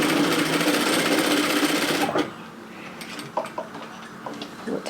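Domestic sewing machine stitching a short curved seam on a waterfall collar cardigan, a loud rapid whirring run for about two seconds that then stops, followed by quieter scattered clicks and handling sounds.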